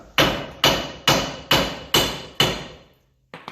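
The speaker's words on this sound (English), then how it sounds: "Most of the time I smack it right here with a big hammer, and it'll just drop." A big hammer striking the lower ball joint on a 2005 Dodge Dakota, six loud, evenly spaced metallic blows, each ringing briefly, followed by a pause and a lighter knock.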